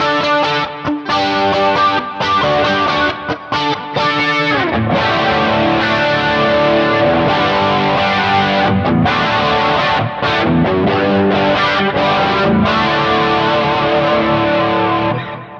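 An electric guitar plays continuously with a shimmering Kemper pitch chorus effect and some distortion, loud and close, with a brief pause in the strumming early on.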